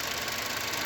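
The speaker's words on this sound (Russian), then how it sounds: "Вот слышите, как движок работает?" A Chevrolet Cobalt's 1.5-litre B15D2 engine idles steadily with a dense, even mechanical rumble and a faint ticking knock running through it, close and continuous with no voices.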